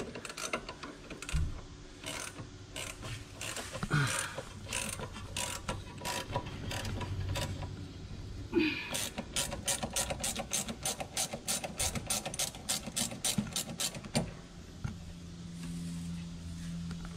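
Ratchet clicking in quick repeated bursts while a shock bolt is removed from a leaf spring mount on a 2016 EZGO RXV golf cart, close and steady with short pauses between runs of pawl clicks.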